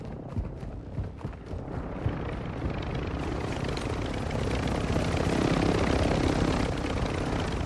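Helicopter flying in a video game, a dense rotor and engine roar that builds louder and fuller over several seconds, with some thumping knocks early on.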